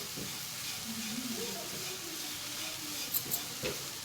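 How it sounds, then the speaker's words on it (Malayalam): Sugar is stirred into heated, sweet-stuffed ripe plantain in a pan, giving a faint steady sizzling hiss with soft scraping stirs and a few light taps, while a voice speaks quietly. "പഞ്ചസാര ഇതിൽ അലിഞ്ഞ് പിടിക്കുന്നത് വരെയും നമ്മളിത് ഇളക്കിക്കൊണ്ടേ നിൽക്കണം"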